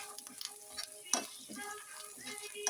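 Peanuts, cashews and roasted chana being stirred in a pan over low heat, giving a soft continuous sizzle with scraping and light clinks of the spoon against the pan, fairly quiet and close.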